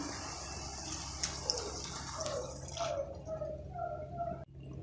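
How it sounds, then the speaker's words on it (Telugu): Water pours steadily into a pan of prawn curry, a soft running splash that gurgles lower as the liquid settles, then stops abruptly. "రొయ్య పొట్టు మునిగేంతగా"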